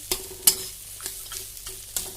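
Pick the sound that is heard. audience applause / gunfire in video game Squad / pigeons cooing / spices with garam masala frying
spices with garam masala frying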